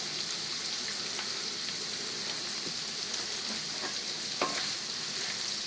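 Potatoes, smoked sausage and bacon fry in a pot with a soft, even sizzle and light crackle, a gentle steady hiss with a few faint clicks and one brief knock.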